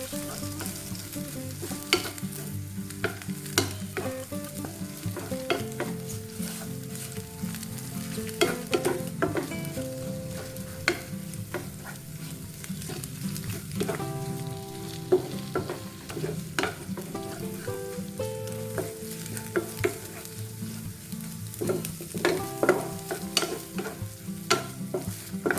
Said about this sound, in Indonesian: Kemudian sekarang saya akan tambahkan udang segar yang sudah dicincang. Lalu kita tumis lagi sampai udangnya berubah warna.